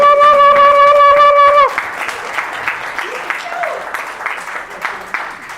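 Conference audience applauding at a Congolese gathering, following a sustained tonal chord; the clapping is steady and moderately loud for several seconds, with scattered voices mixed in.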